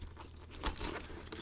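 Metal keys jangle briefly as they are clipped onto a carabiner key clip on a Brown Buffalo Parka Tote, a short close rattle rising midway and continuing softly.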